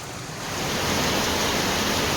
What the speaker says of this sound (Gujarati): હજી તો શરૂ છે વરસાદ. બંધ થવાનું નામ નથી લેતો.